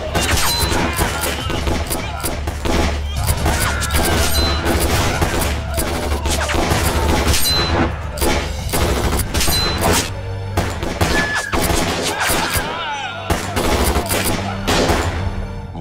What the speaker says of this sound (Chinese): 你听听外面的枪声越来越少